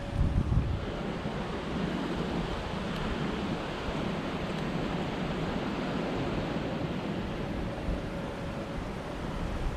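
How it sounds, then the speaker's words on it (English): A river in Essex flowing in December, a continuous broadband rush of running water with some wind buffeting the microphone, steady and fairly loud throughout. "The river's running very nicely."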